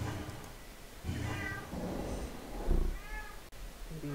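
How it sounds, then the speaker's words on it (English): A cat meows several times in drawn-out, wavering calls close to the listener, each one loud and distinct against a quiet background. "Lovely serenade of my cat."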